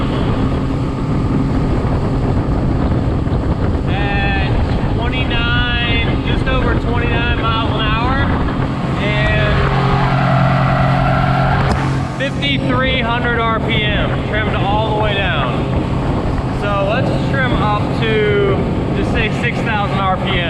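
Tohatsu 30 hp outboard motor pushing a Gheenoe LT25 at full throttle around 6,000 RPM, a steady loud drone with wind buffeting and someone talking over it throughout.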